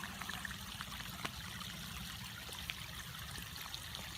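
Clear shallow water trickles and flows steadily past a rice field, a soft continuous babble with faint small splashes, quiet and close with no voices.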